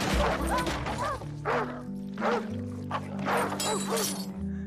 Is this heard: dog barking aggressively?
yes